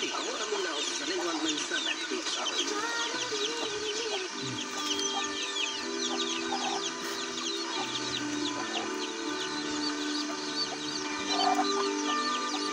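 Chickens cluck and murmur continuously in a busy outdoor setting, with birds chirping and faint voices in the background.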